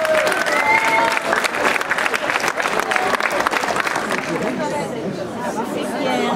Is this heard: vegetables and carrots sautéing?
no